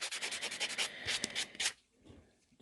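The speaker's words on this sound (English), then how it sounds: "Just going to go over it with the buffer now." A nail buffer works over dip powder nails in quick, rhythmic rubbing strokes close by for under two seconds, then stops, leaving near quiet.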